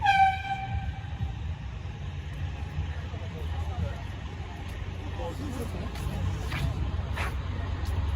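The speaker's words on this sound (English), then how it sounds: "You got the air horns now?" Truck air horns at the 2022 freedom convoy in Ottawa sound a long, steady harmonic blast at the start, then continue over a constant low rumble of engines while someone talks nearby.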